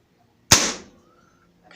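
A Crosman F4 air rifle fires a single .177 pellet over a chronograph, giving one sharp, fairly close crack that fades quickly into silence.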